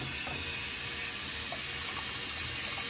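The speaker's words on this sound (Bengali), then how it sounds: "আর ঠান্ডা পানি দিয়া এগুলা দইয়া নিব আমি।" Cold tap water pours steadily over sago pearls in a strainer, a continuous broad hiss of running water with faint splashing, close and even throughout.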